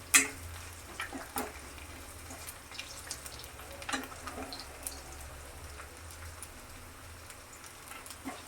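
Garlic frying in oil during tempering for a Tamil brinjal vatha kuzhambu gives a steady, soft crackling sizzle. A few sharper pops and spoon scrapes sit over it throughout, with no talk.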